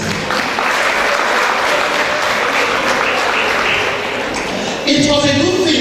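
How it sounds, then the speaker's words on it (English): An audience at an alumni anniversary conference breaks into sustained applause, a dense, loud wash of clapping that carries through the whole stretch. A voice and music come in near the end. "Please, a round of applause for you, please."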